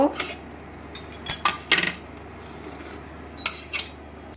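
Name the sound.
egg vegetable pizza being lifted onto a plate with utensils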